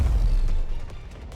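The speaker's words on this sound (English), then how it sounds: "Giant explosion colors the sky" A giant explosion in a Power Rangers video game, a deep low boom that opens loud and then rumbles away into a thinner crackling tail over about a second, with no voices over it.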